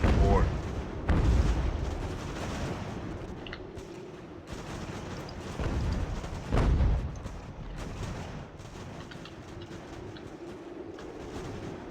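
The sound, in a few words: cannon fire near fort in Ultimate General: American Revolution video game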